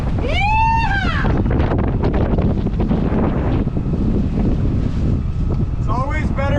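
Sailboat underway at an anchorage off Mexico, strong wind buffeting and rushing water filling the scene, loud and continuous, with people talking and calling out over it.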